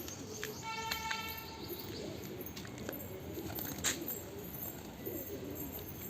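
Faint wild pigeon cooing outdoors on a rooftop, soft and distant, mixed with a few sharper bird chirps over quiet background ambience.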